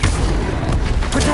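A blasting spell goes off in the Hogwarts Legacy video game: a loud booming burst of explosive noise with a rumbling tail, overlapping other game sounds and a voice.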